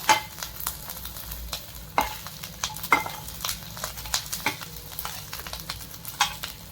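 Green chillies fry in hot oil with a busy, crackling sizzle, while a spoon scrapes and taps against the pan in an irregular rhythm, with no talking.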